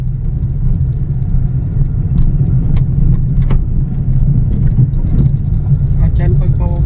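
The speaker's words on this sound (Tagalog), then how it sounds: "At yan pagpababa, engine brake." A bus on the Pasig–Bicol route engine-brakes while heading downhill, giving a heavy, continuous low rumble from close inside the cabin. Someone talks over the drone.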